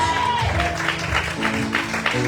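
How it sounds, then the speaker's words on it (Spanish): A church congregation applauds to give praise during a sermon, with a dense wash of clapping under sustained music and a murmur of voices. "Den un aplauso a Dios."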